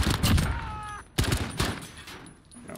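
Video game gunfight tournament shots crack out in sharp, loud bursts, with a brief lull between volleys and game sounds ringing in the gaps.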